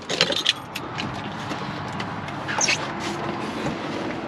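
Keys jangle in short metallic rattles near the start, around a truck, with a faint vehicle hum running steadily underneath.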